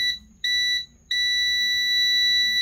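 An ANENG ST184 clamp multimeter in continuity mode gives loud, piercing electronic beeps: two short chirps, then one long sustained tone, all close and clear over a faint low hum.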